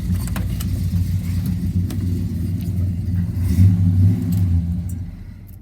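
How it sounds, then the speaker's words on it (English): A Chevy pickup engine running after a cold start, a steady low rumble close by with a brief rev swelling in the middle before settling back to idle. "that was a cold start of the Chevys that currently run"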